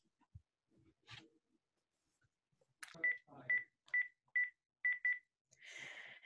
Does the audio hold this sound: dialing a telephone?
yes